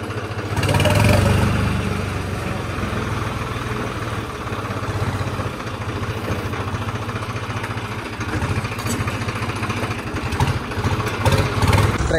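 A John Deere tractor engine running on a farm field, a steady low, loud mechanical drone with a throbbing idle, close to the microphone and unbroken for the whole stretch.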